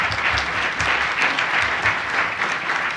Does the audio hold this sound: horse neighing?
no